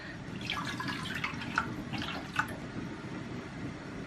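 Water trickles and splashes into a pot of granulated sugar to make syrup for baklava in a home kitchen, a quiet, steady pouring with a few brighter drips.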